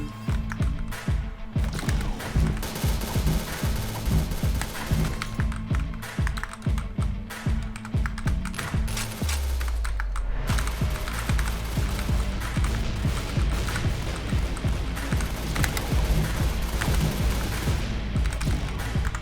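Rapid gunfire from Point Blank pours out in dense, fast bursts, first as sharp closely spaced shots, then with a deeper booming layer joining midway, loud and relentless under occasional keyboard clatter.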